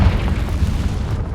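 A Confringo spell detonates in Hogwarts Legacy as a single loud, booming blast that rumbles heavily and holds its weight across the short moment.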